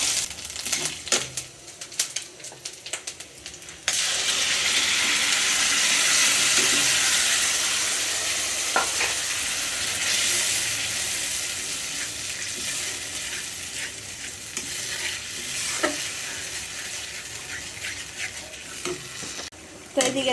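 Minced garlic and ginger paste with chutney frying in a pan on a gas stove, a steady loud sizzle that swells after a quieter start, with occasional scrapes and clinks of stirring.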